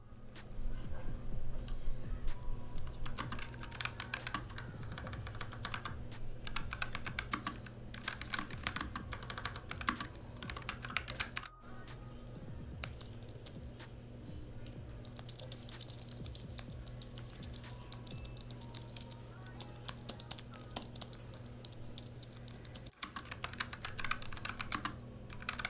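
Steady typing on a NuPhy Air75 mechanical keyboard, a continuous run of close, crisp key clicks with an even rhythm and occasional louder strokes, heard alone at a low, intimate level.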